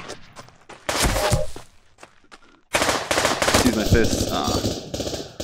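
Rapid automatic gunfire in the Pavlov VR shooter game comes in two long, loud bursts separated by a brief pause, while a player speaks over the shots.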